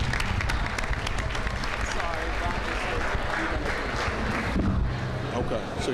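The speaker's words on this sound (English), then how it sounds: "Another round of applause, please, for our young performers from 15th Avenue." An audience at a school advisory board meeting claps loudly and continuously for young student performers, a dense wash of applause filling the whole stretch.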